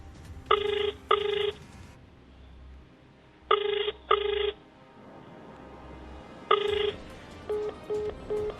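A telephone ringing while someone tries to call their boss: three paired double rings separated by pauses, loud and close, followed by faint short beeps at the end.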